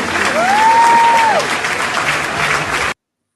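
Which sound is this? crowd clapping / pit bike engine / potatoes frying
crowd clapping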